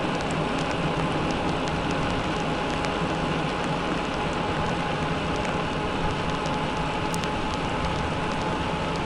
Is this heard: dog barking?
no